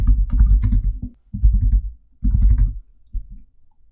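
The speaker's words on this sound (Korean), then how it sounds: "내용을 타이핑할게요." Bursts of typing on a computer keyboard, close and crisp, with clusters of rapid key clicks separated by short pauses and a final few keystrokes, no voice over them.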